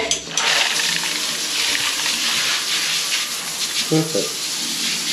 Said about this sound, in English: So there we go, water's back on.